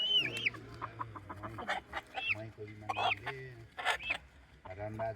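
A local rooster clucks and squawks in short bursts, mixed with people talking nearby and a low rumbling background.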